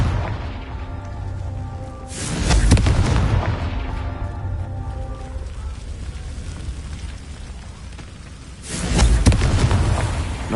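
Confringo spell blasts in the video game Hogwarts Legacy, two heavy booming explosions several seconds apart, each with a long rumbling decay between them.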